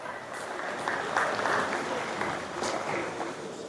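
A crowd applauds steadily at a varsity sports event, a dense patter of many hands clapping in a large space, with a few louder claps standing out.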